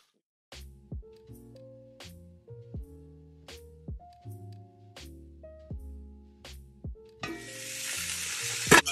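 Osso buco meat browning in a hot pan gives a loud, steady sizzle that rises near the end, after a stretch of melodic music with gliding notes.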